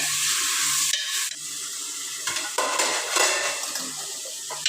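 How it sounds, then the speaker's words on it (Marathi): Mutton frying in a pan, a continuous bright sizzle close by, interrupted by a few scraping stirs and light clinks of a utensil against the pan. "आता असं फ्राय करून घेतलं ना की आता आपलं मटणही चांगलं फ्राय झालंय"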